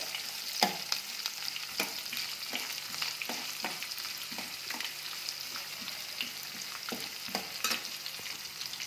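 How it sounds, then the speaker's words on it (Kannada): Spices fry in oil over a low gas flame for mint rice, giving a steady close sizzle broken by sharp clicks and scrapes of a spoon stirring in the pan. "ಗ್ಯಾಸ್ ಫ್ಲೇಮನ್ನು ಜೋರಾಗಿ ಇಡಬೇಡಿ, ಸಣ್ಣನೇ ಇಟ್ಕೊಂಡು ಎಣ್ಣೆಯಲ್ಲಿ ಹುರ್ಕೊಳ್ಳಿ"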